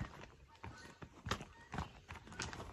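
Quiet hoof clops on hard ground, a few uneven steps, with a soft whinny and faint breathing nearby.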